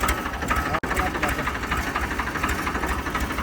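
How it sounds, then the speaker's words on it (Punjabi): A Farmtrac 60 tractor engine idles with a dense, steady rumble and rattle, loud and close, with a momentary dropout near the start. "ਇੱਕ ਵਾਰ ਬਾਈ ਤੁਹਾਨੂੰ ਦੁਬਾਰਾ ਸਟਾਰਟ ਕਰਕੇ ਦਿਖਾਊਗਾ ਟਰੈਕਟਰ"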